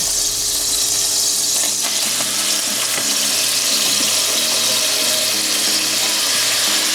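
Venison tenderloin searing in butter in a hot pan, with a loud close sizzle and crackle over a low hum, broken by a few brief clicks and knocks.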